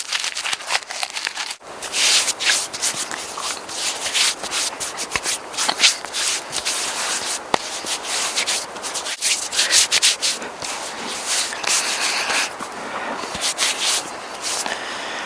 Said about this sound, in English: I'm going to crush it up in my hands, I'm going to rub it around my hands and then on my exposed skin